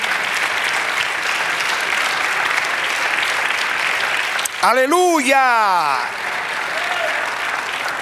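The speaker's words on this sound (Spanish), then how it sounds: "Dale aplauso al Señor." A church congregation applauds steadily throughout. Midway a single voice calls out loudly over the clapping, then the applause carries on beneath it.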